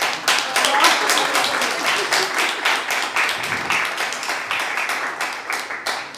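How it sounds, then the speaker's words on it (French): Conference audience at a decorative arts museum round table applauding steadily, a dense wash of many hands clapping at an even level for several seconds without fading. "On peut l'applaudir."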